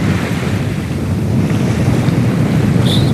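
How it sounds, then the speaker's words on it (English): Steady rushing wind and wash of small waves surround a sailboat under a pulled-out genoa at about 5.5 knots in light chop and a small swell, loud and continuous. "Not really much of a sea running, just a little wind chop and a small swell."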